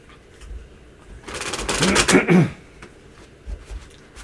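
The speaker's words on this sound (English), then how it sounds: "All right, shuffle." Tarot cards being shuffled by hand, a dense riffling flutter building for about a second and ending abruptly, close and moderately loud, with faint soft handling noises before and after.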